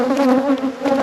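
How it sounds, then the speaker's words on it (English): Honey bees swarm close around a beekeeper at a queenless hive, making a loud, steady, pulsing buzz with wavering pitch and no voices. "the bees is like going crazy on me"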